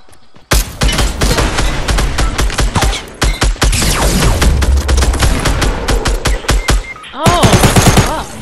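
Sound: shotgun firing in the video game Fortnite

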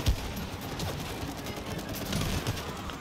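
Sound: gunfire in It Takes Two video game

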